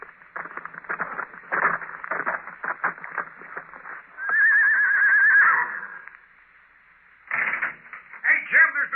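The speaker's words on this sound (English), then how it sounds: "At 8, they heard a horse stop outside." A horse whinnies loudly in a radio drama, set amid narration and dialogue heard through a narrow, old-radio sound, with speech before and after the neigh.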